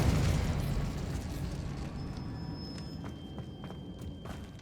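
In the Hogwarts Legacy video game, the Expelliarmus spell lands with a booming burst that fades out over several seconds, followed by scattered light clicks and ticks.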